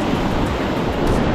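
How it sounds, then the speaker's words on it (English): Ocean surf rolling and breaking on open big water during a fishing outing, a steady, loud, close rush of wash and spray with no pauses and no voices. "That's a big wave."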